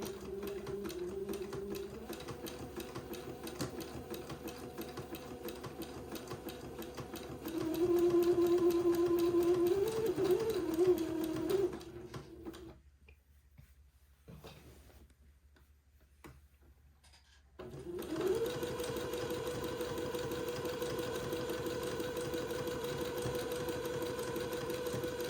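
A sewing machine zigzag stitching entre-deux onto fabric for a dress: a close, steady mechanical whir with rapid ticking, rising briefly in speed, pausing for a few seconds, then running on again, with no talking.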